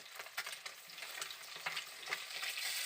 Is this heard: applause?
no